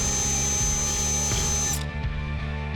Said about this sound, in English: We'll drill a hole right there